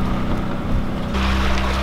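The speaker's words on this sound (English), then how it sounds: "And then the wind died, and so we're back to motoring." A sailboat motors under engine power on open water, a steady low engine drone mixed with wind and water rush that grows louder and fuller in the last second.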